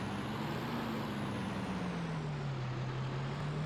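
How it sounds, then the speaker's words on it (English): Heavy truck in Farming Simulator 25 backing up, a steady loud diesel drone with a slowly falling engine pitch and a faint high whine throughout, no voices. "The reason we're backing up so I don't hit my other truck."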